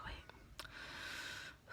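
Heavy breathing from a pregnant woman just after climbing the stairs, with a couple of sharp breathy gasps and then a long airy exhale, close and quiet.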